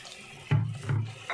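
Roughly half a cup of water poured into a pan of potato and fenugreek curry (aloo methi): two short splashing pours in quick succession, close and brief, with no talking.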